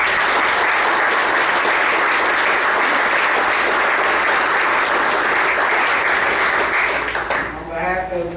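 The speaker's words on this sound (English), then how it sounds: "Let's give Keith a big round of applause." A fiscal court audience gives Keith a big round of applause, a dense and loud sustained clapping that fills most of the stretch and then fades as a voice starts speaking.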